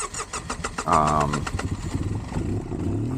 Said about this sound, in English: Start to bike back up, stalled out.